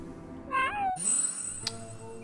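A cat-like creature, the Felis Umbra from a retro video game, gives a short rising meow followed by game sound effects, a brief high tone and a sharp chime.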